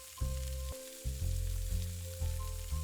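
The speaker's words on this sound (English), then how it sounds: "Start by sautéing your onion and pepper in a little olive oil until they soften." Onion and pepper sauté in olive oil in a pan, a soft, steady sizzle sitting beneath louder tonal music.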